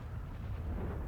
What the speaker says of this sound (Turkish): Şu gök gürültüsü beni bir geriyor.